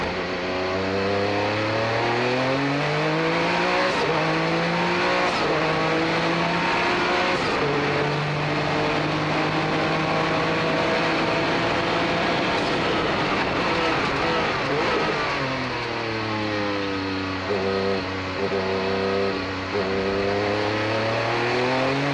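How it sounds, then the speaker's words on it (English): Vintage 1967–1981 Formula One race cars moving onto the grid at a historic motorsport event at Monterey, several engines droning and revving together at close range, pitches rising and falling steadily without pause. "Here we have the cars for Race Group 8, 1967 to 1981 Formula One cars to the free grid"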